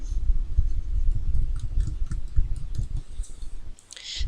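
Typing the word "education" on a computer keyboard, with soft irregular key clicks and taps running steadily over low room rumble for about four seconds, no voices.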